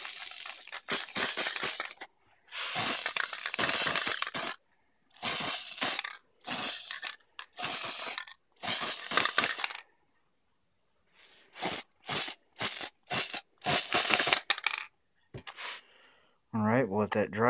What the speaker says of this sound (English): Go ahead and spray it up.